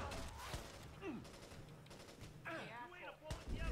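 Bursts of rapid gunfire from the video game Watch Dogs crackle in repeated volleys, loud and close, with game voices and effects mixed in between.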